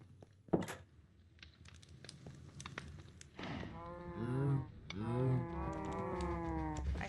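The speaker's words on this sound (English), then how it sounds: "I see cows." Several cows moo in the video game Minecraft, two long lowing calls following a few soft thumps and clicks, fairly faint with no speech over them.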